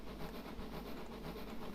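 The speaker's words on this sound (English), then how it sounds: "Adam, it is the virtual district line that we are running on" A train runs on the virtual District line in a train simulator game, giving a steady, noisy rumble and hiss with faint rhythmic clatter throughout.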